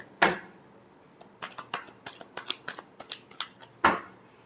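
Tarot cards are shuffled by hand at close range in bursts of quick riffling flicks and soft slaps, including two louder snaps near the start and end, with no talk.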